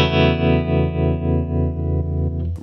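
Electric guitar played through a Native Audio Rising Sun optical tremolo pedal with a sine waveform, a sustained distorted chord pulsing in steady, even volume swells, loud and up close with no talk.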